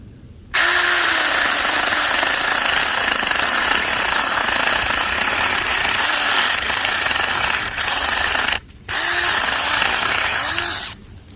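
A Saker 20V cordless mini chainsaw cuts through a live tree branch about 2 inches thick, its loud, steady motor whine running close by for about ten seconds with two brief dips before stopping.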